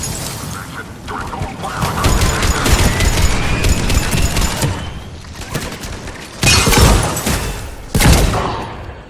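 Sustained gunfire at a checkpoint in the video game Mass Effect 3, loud dense bursts of shots with heavy booms, continuing under shouted voices.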